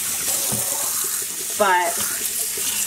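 Tap water pours over tie-dyed wool yarn in a sink, a steady close splashing wash that runs throughout, with a brief spoken word over it.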